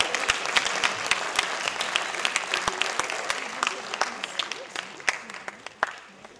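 An audience at a school farewell ceremony claps steadily, a dense patter of hands with a few sharp individual claps standing out, while a voice talks faintly underneath.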